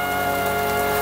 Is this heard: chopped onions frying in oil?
no